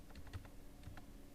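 A few light keystrokes on a computer keyboard, faint and close, with small clicks spread over about a second as data is entered into an accounting entry, no talking.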